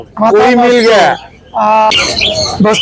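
Birds squawk and call at the Mirpur bird market, sharp bursts mixed with close voices talking.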